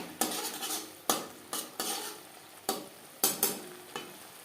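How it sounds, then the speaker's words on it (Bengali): Pakal (bam) fish curry in oil and chilli being stirred over a high gas flame, a spatula scraping the pan in several sharp strokes against a soft sizzle, with no talk. "হাই ফ্লেমে দু তিন মিনিট নাড়াচাড়া করে দেব"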